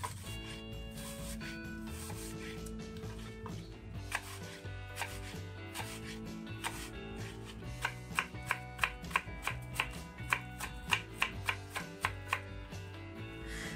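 A knife chops an apple into small cubes on a cutting board, the quick close taps quickening into a steady run of sharp knocks over faint background.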